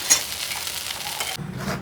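A dosa frying on a hot pan and being flipped, a close continuous sizzle that shifts abruptly in tone near the end as it is turned, with no voices.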